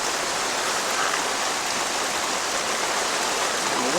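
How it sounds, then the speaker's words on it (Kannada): Monsoon rain near Manjarabad Fort in Sakleshpur, a dense, even rushing hiss pouring down steadily throughout with no voices. "ಮಳೆಗಳು."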